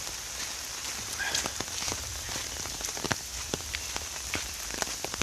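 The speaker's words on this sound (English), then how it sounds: "enjoying the sound of the rain patter on the umbrella" Rain patters steadily on an umbrella by Three Sisters Lake, with scattered sharper drops landing over a soft continuous hiss, quiet and close.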